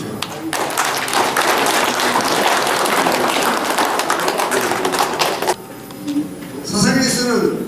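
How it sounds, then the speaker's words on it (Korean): Audience applause for a pastor at a live peace performance event, a dense sustained burst of many hands clapping that cuts off sharply, followed by quieter scattered sounds and a brief voice. "박수를 보내주십시오"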